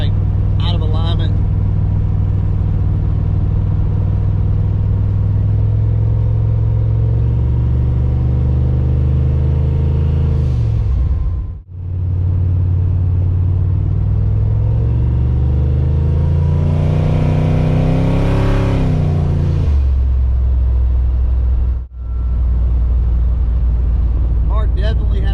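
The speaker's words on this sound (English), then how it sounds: "Car definitely has a misfire for sure." A car with a misfiring engine and wheels out of alignment drives in third gear, its engine loud and steady with uneven pulses. It revs up and drops off with two brief gaps, with no voice over it.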